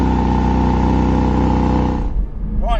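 A Porsche GT4 RS engine runs loud and close at a steady, throaty idle-to-rev drone for two seconds before cutting off abruptly, followed by brief faint rustling and a short speech-like sound at the end.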